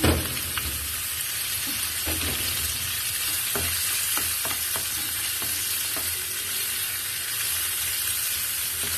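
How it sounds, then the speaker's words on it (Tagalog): Onion and garlic sauté in a hot pan with a steady hiss and crackle, punctuated by a few sharp clicks and pops as the food is stirred, close and continuous with no talking. "Gisa muna natin."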